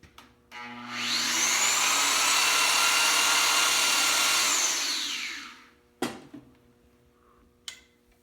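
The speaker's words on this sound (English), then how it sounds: "Turn the cutter on." A Modular Tubing Notcher cutter spins up with a loud, high-pitched motor whine, holds steady for several seconds, then winds down to a stop, followed by a couple of sharp metallic clunks.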